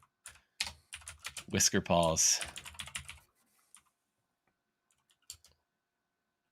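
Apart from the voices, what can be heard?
typing on a computer keyboard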